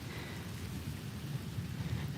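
Steady rain falls outdoors in a cemetery, a dense continuous patter with a low rumbling undertone that stays even throughout, with no voices.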